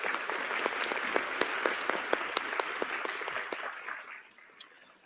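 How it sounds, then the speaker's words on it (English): A graduation audience at a Jefferson 2022 technical education commencement applauds a speaker, with sharp rhythmic claps over a dense crowd clatter that tapers off after about four seconds, ending in one isolated click. "How about another round of applause for John?"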